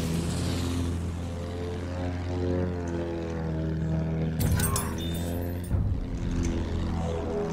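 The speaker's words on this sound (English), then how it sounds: "There's another plane." Propeller attack plane droning steadily in a Battlefield 1 air battle, a loud continuous engine hum with rising pitch and brief bursts of gunfire or impacts around the midpoint.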